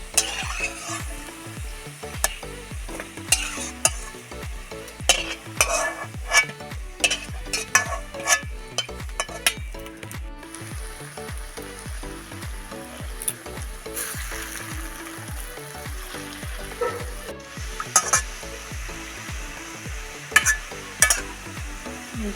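Bottle gourd fritters fry in hot oil in a wok, a continuous sizzle broken by repeated scraping and clinking of a spatula being stirred and lifted, close and without talking.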